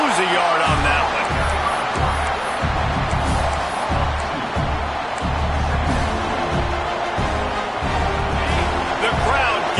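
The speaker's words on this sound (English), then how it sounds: "The crowd getting behind this defense as they try to get a stop in the red zone." Football stadium crowd roaring steadily for the defense during a college game, a loud continuous wash of cheering with a rhythmic low thumping underneath, filling the whole stretch.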